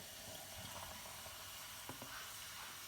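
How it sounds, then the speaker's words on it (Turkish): Plain soda water pours into a glass with lemon and cinnamon, a faint steady fizzing hiss with a few soft splashes, heard alone and quietly. "Bunların içerisine şimdi sodamızı ekliyoruz."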